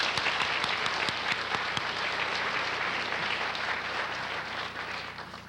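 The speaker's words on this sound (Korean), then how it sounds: "우리 환영하는 박수 하십시오" Welcoming applause from a church congregation during a service, steady clapping from many hands filling the room at an even level throughout, with no talk over it.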